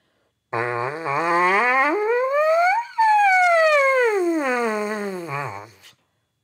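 A loud lip-buzzing tone glides steadily upward in pitch, breaks briefly, then slides back down, like a siren-shaped sweep with no talking.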